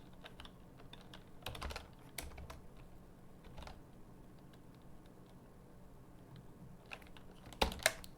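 Quiet typing on a computer keyboard at a desk, soft scattered key taps in short irregular bursts, with a few sharper clicks near the end and no voice.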